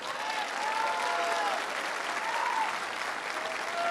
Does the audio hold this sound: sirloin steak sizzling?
no